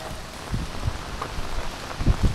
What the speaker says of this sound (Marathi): एवढा पाऊस पडतोय ना काय सांगू तुम्हाला